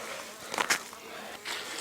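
Faint buzzing of honeybees flying close by during a hive relocation, with a couple of louder passes swelling and fading against a quiet background.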